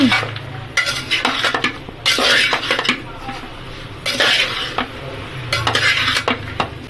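Spoon scraping and stirring salt and coriander powder through a pan of spice mixture for a quick chicken-style curry, uneven bursts of clattering strokes close by over a low background hum.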